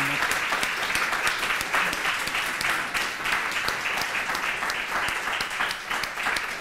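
Warm, sustained applause from an audience after a talk, many hands clapping in a dense, even wash for several seconds.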